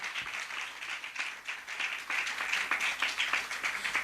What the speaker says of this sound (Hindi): आओ परमेश्वर की तारीफ के लिए हम लोग तालियों के साथ धन्यवाद देंगे।